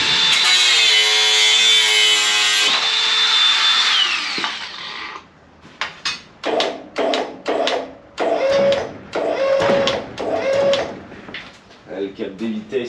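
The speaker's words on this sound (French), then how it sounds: "J'ai bien envie d'y passer des coups de meuleuse." An angle grinder cuts into car parts while stripping a vehicle, opening with a long high whine, then a run of short, loud bursts of grinding with gaps between them.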